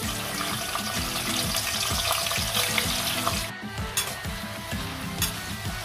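Onions fry in hot oil with cinnamon and cloves for a dried fish curry, a dense crackling sizzle under repeated scraping stirs of the pan, with no talk.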